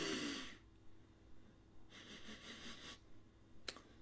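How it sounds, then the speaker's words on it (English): Sniffing at an apple cinnamon e-liquid: a sharp close sniff opens the clip, followed by a longer steady inhale and a final quick snort, all alone with no talking. "So let's go ahead and do a sniff test real quick."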